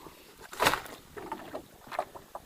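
Soft water lapping and splashing against a small boat's hull in a training pool, a few gentle sloshes over faint background noise.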